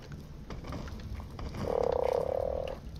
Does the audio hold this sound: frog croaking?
yes